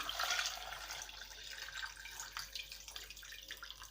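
Water streams steadily into a pot, splashing and gurgling at close range for several seconds, with no one speaking.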